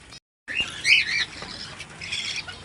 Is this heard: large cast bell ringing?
no